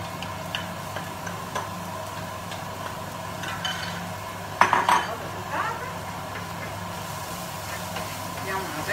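Chopped carrot goes into a pot of aromatic chickpeas in a home kitchen, making one brief clatter and rattle against the pot. A low cooking hum and faint ticking kitchen sounds fill the background.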